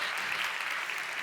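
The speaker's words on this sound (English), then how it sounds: "I don't usually get so much applause." Steady crowd applause from a conference audience, a dense, even wash of clapping throughout a brief moment.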